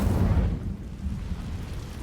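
Incendio fire spell cast in Hogwarts Legacy, a deep rumbling whoosh of flame that bursts loudly at first, then settles into a lower sustained roar.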